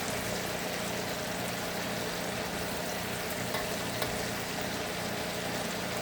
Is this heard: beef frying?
yes